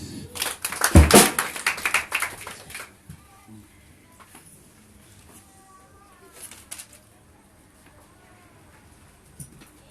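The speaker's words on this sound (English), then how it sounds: "Clap hands for the Lord" A congregation claps hands for the Lord in a brief, loud burst at the start that fades within a few seconds, leaving a quiet room with faint cooing of a pigeon or dove and scattered small sounds.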